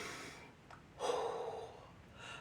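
A single deep breath drawn in during an exercise session, a soft airy inhalation that swells after a brief sniff and then trails off, close and quiet.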